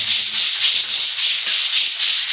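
Rhythmic back-and-forth sanding of a painted matte-shield coated surface, close and loud, with about eight even strokes in quick succession and no talking.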